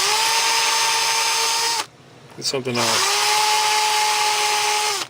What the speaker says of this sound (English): So I just take my drill and just give it a little bit of a drilling, because the holes are a little bit small.